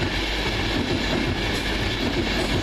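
Passenger train 1H17, London Euston to Manchester Piccadilly, rushes past at speed with a loud, continuous roar and rhythmic wheel clatter, close by and steady across the whole moment.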